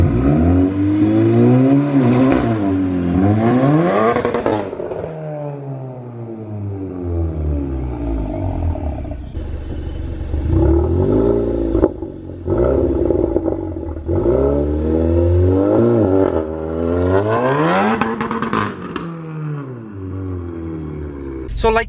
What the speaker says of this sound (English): it's wheel spinning and wheel hopping